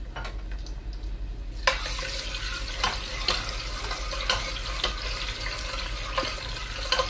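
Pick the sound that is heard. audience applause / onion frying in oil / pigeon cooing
onion frying in oil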